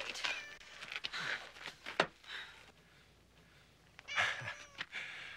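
A cat meows repeatedly, several drawn-out, strained cries separated by short pauses, fairly close and clear over quiet background noise.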